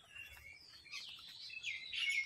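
Pigeons and their chicks make soft, thin chirping calls in short bursts, fairly faint and close, with no talk over them.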